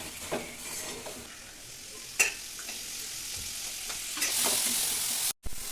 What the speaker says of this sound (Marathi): सगळं चांगलं भाजून घेऊन ह्याचा मसाला करणार आहे